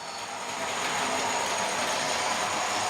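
Class 40 model locomotives haul rolling stock around a model railway with a continuous, even mechanical rumble and faint rhythmic clicking from the wheels on track, steady throughout with no voices.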